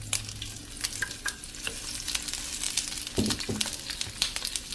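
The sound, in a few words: asparagus sizzling in hot olive oil in a pan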